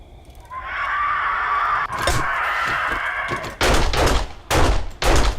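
Gunfire in the video game 7 Days to Die: a rising whine and rumble first, then several loud, sharp bursts of shots close together near the end.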